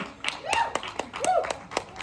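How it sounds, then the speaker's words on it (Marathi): Several sharp hand claps ring out at irregular intervals outdoors in a resort garden, while voices talk and exclaim over and between them. "टाळी वाजवणे"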